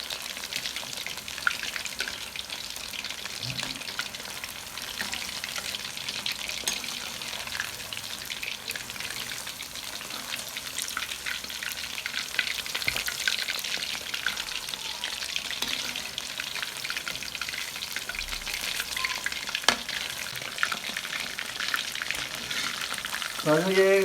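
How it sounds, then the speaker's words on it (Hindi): Chicken pieces fry gently on low heat in a pan, a continuous soft crackling sizzle with occasional spoon stirs and light clinks, steady and close. "अब ये देखें कि ये फ्राई होना शुरू हो गया है और इसको बिल्कुल हल्की आंच पे हमने इसको फ्राई करना है"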